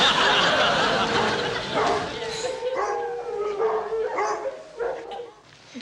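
Several dogs barking and howling together, loud and close at first, with yelping and whimpering bursts that fade in and out, mixed with voices.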